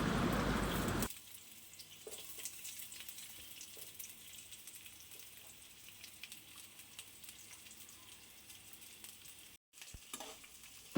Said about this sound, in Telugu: అండ్ ఇప్పుడు కట్ చేసి పెట్టుకున్న ఆనియన్స్ వేసుకోవాలి.